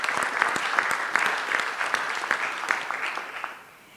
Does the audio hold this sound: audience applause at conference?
yes